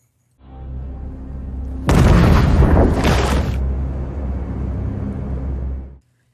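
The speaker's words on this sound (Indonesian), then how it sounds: "kapal itu pun akhirnya meledak" A ship explodes in a film: a loud, sustained explosion roars up suddenly over a low rumble, then a long dense blast that fades out after a few seconds.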